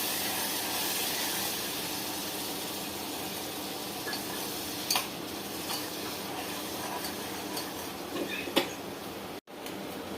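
Water added to a simmering dhokli gravy gives a constant broad hiss and bubbling throughout, with a few faint clicks and a brief dropout near the end.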